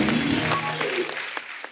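Studio audience applauding two guests on a comedy talk show, a dense burst of clapping that fades over under two seconds.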